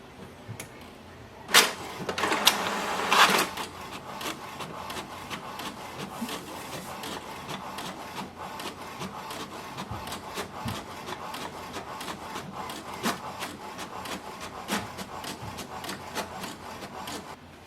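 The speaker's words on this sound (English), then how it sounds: "So I'm just going to print it." An HP DeskJet 4352 inkjet printer prints a page, starting with a few louder mechanical clunks and whirs and then settling into a steady, quiet mechanical rattle and feed noise with no talking.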